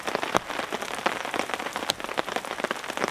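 Rain falling on a tent while camping in heavy weather, a close, dense patter of drops drumming steadily on the fabric with occasional sharper hits, no voices present.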